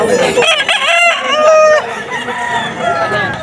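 Gamecocks for sale at a cockfighting rooster market in Bocaue crow loudly, with several long crows overlapping close by and continuing throughout.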